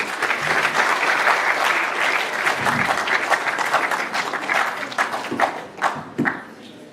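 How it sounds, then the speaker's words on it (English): An audience at a G-Fest 2025 event applauds steadily for a CEO and studio founder taking the stage, dense clapping that thins into a few scattered claps near the end. "So please give him a round of applause."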